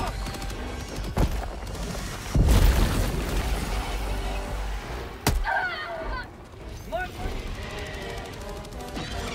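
Grenade and gunfire blasts in Helldivers 2: several sharp booms, one heavy explosion with a long low rumble, then another crack, scattered over steady background battle noise.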